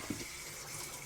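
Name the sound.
water running from a sink tap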